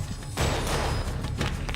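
Short bursts of gunfire during firearms training with a pistol, a dense, loud rattling volley that starts abruptly and continues steadily for a couple of seconds.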